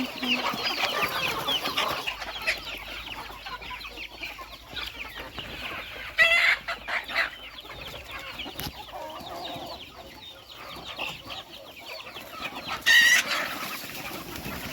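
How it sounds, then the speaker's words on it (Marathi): Free-range village chicks in a crate give scattered thin, high cheeps over a soft, continuous poultry murmur, fairly close, with no talking. "आता जे आपली पिल्ले आहे गावरानी हे बघा"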